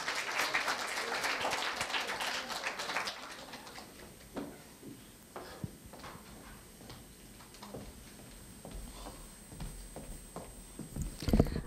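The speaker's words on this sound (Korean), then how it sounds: "큰 박수 부탁드립니다." Audience applause at a middle school speaking festival, a dense burst of clapping in a hall for the first three seconds that thins out into scattered claps and room noise.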